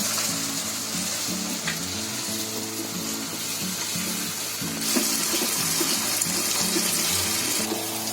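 Paneer gravy simmers and fries in ghee after curd is added, making a continuous bubbling sizzle with a steady hiss that swells slightly louder partway through.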